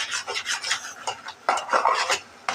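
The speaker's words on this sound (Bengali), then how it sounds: "এটাকে এখন ভালো করে একটু কষিয়ে নিবো" Mustard hilsa fish curry being stirred and sautéed in a pan over lowered heat, a rhythmic rasping scrape of spatula on metal in repeated strokes, close and fairly loud with no voices.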